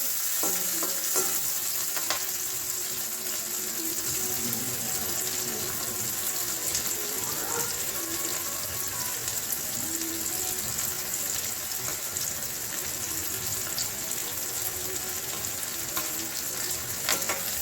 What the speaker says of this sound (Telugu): కలబెడుతూ ఉండాలండి మారిపోకుండా ఈవెన్గా ఫ్రై అవ్వడానికి